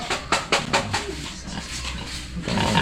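Several sharp grunts and squeals from pigs close by, with a scuffling background and a louder burst of noise at the end.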